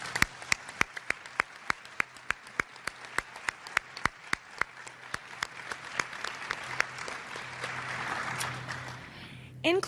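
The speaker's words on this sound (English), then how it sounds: "Please join us in a round of applause to recognize all of the winners of the Positive Business Awards." An awards-dinner audience applauds the Positive Business Awards winners, starting with loud, sharp, evenly spaced individual claps and swelling into a broad, sustained wash of crowd applause near the end.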